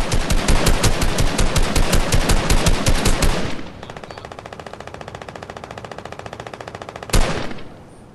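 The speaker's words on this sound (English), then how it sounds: "Good shooting." Rapid automatic gunfire in a video game, a loud rhythmic burst of shots that drops to quieter sustained firing, then a single sharp blast near the end.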